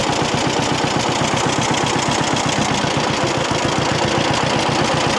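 A John Deere B tractor's two-cylinder engine runs steadily in low gear, a loud close chugging throb with a fast even rhythm and constant mechanical rumble throughout.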